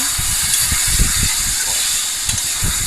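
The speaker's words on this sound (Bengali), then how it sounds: "নাড়ছি আমি।" Goat meat curry is turned with a spatula in a wok, a series of dull, rhythmic scraping thumps over a loud, steady hiss of cooking, close up and without talk.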